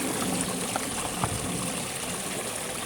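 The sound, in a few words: water running through pool DE filter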